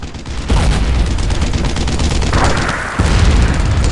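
Gunfire and tank cannon shots in the World War II shooter Brothers in Arms: Earned in Blood, with loud sustained rattling bursts and heavy booming impacts in a dense battle mix, and no talking.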